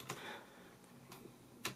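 Keys on a XENTA MT-K201 full-size USB keyboard with stiff, hard-pressing keys give a few sharp, separate clacks spaced apart, close and fairly loud.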